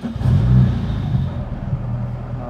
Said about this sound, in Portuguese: Você acha que o ronco é mais grosso do 16 válvulas?